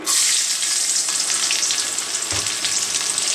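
Garlic cloves fry in hot oil for a fish bharta (pangas), a loud, steady sizzle that runs unbroken close up, with no talk.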